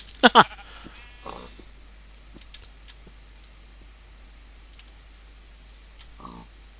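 Two short, sharp Minecraft sheep bleats ring out close together at the start, followed by faint scattered sounds and a couple of softer bleat-like calls later.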